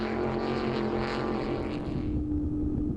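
An offshore powerboat's racing engine drones steadily and quite quietly through the Sicily Ocean Grand Prix, holding a constant pitch under rushing wind noise for about three seconds, with no talk.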